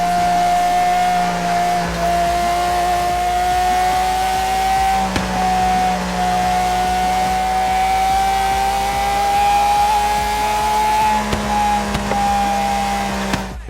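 A car engine in Forza Horizon 3 roars loud and sustained, its pitch climbing through each gear and dropping at the shifts, screaming high like a banshee with no talk over it.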